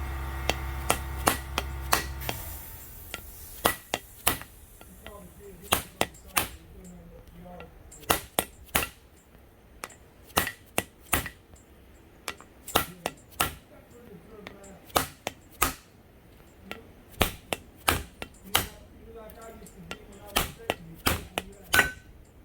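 A differential carrier on a Ford 9.75 ELD-style rear axle is struck repeatedly with a hammer, sharp metallic blows landing at uneven intervals, loud and close, with a few quieter taps between.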